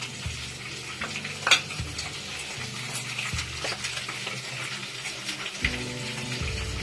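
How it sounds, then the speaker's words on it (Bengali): Koi fish sizzles in hot oil in a pan for a Bengali tel koi, crackling close and continuous with scattered sharp pops and some light clatter, no voices. "মাছটা ভাজতে দিয়েছি"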